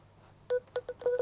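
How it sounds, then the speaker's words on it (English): A phone app beeps as it detects a product barcode: several short, clear electronic tones in quick succession, close and fairly loud. "as soon as it detects a barcode, it will start to beep"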